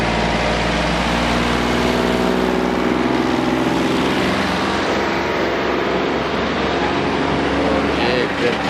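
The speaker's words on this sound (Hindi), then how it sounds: "और ये ट्रैक्टर जो है इसने ब्लॉक लोड किए हुए हैं और ये गांव की तरफ लेके जा रहा है।" A tractor hauling a load of blocks toward a hillside village rumbles loudly and close by, a steady engine drone with no break.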